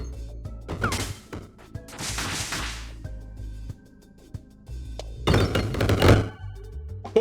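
Red bombs explode in the video game Peglin, several sharp thumping blasts with crackling tails, arriving in separate bursts between quieter stretches.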